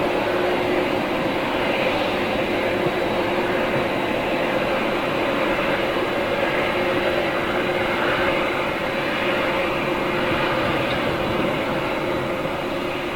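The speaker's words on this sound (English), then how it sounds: "Her engines might actually clear the mist a little bit." Jet aircraft engines at Manchester International Airport give off a steady, continuous roar and hum at moderate distance, unbroken for the whole stretch with no talk over it.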